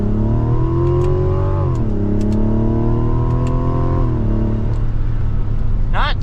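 A 2024 Mazda CX-90 Turbo SUV engine revs and climbs through gears as it accelerates, the pitch rising, dropping at each shift, then rising again, loud and close.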